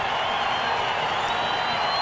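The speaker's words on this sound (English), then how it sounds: "Keith Burns getting the crowd up." A football crowd at Mile High Stadium roars and applauds steadily, a dense, continuous wash of cheering for the Broncos against the San Francisco 49ers.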